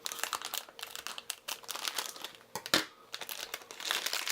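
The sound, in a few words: cutting open sealed plastic blind bags with scissors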